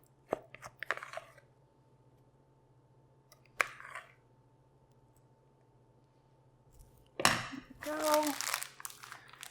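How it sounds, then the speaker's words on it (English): Crinkling and rustling of a plastic Ziploc bag as keto flour-less chocolate donut batter is spooned in, a few sharp handling clicks first, then a dense burst of bag crackle near the end, with a brief spoken word. "So now we're gonna put this into a Ziploc bag to create like a pastry bag."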